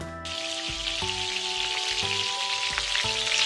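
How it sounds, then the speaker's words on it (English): Marinated prawns fry in hot ghee with a continuous soft sizzle and faint crackle, heard close under quiet background music. "Fry the marinated prawns in it."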